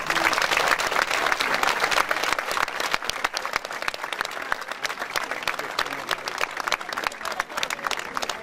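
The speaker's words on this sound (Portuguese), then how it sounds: "passo uma salva de palmas aí." Sustained applause from a concert audience after a philharmonic band performance at a town festival, dense and continuous clapping with a crowd feel, filling the whole stretch without a break.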